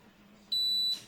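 One steady high-pitched electronic beep from a gun safe sounds for about half a second, close and clear over faint background hum.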